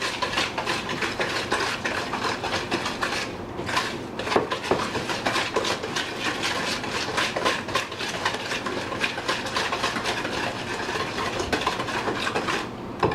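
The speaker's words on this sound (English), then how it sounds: "And you just whisk it together." Banana nut bread batter whisked briskly in a bowl, a continuous rapid clatter of whisk against the bowl sides running nearly unbroken with a brief pause, close and fairly loud, no talking.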